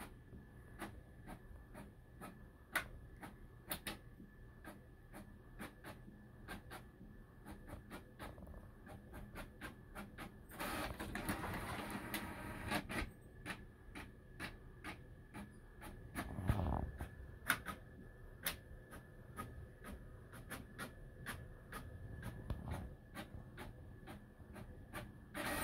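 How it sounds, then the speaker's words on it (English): Printer printing pages indoors, heard as a fairly quiet run of regular mechanical clicks and ticks with short whirring feed passes, including one longer motor stretch midway. "Okay, it's a printer."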